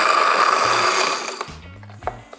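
A blender whirs at full speed, mixing ice cubes, milk and Natacino coffee drink into an iced drink, then winds down with a few low knocks and clunks as it stops.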